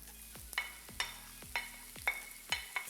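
Onion frying in olive oil in a pan over fairly high heat sizzles softly while a utensil scrapes and stirs in regular strokes about twice a second, close and without voices.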